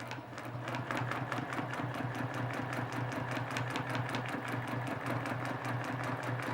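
A sewing machine stitches steadily as it outlines a star on a quilt, a loud, continuous motor drone overlaid with a rapid, regular needle clatter that never pauses.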